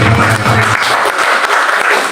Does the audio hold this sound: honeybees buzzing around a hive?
no